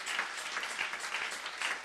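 Church congregation applauding during a French-language sermon, steady broadband clapping that fills the short stretch without a break, moderately loud and sounding like a crowd.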